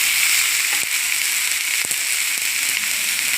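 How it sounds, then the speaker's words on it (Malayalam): Ivy gourd frying in a pan sizzles with a steady hissing crackle, close and fairly loud, broken by a few faint taps of a spoon stirring. "നന്നായിട്ടൊന്ന് ഇളക്കി കൊടുക്കാം."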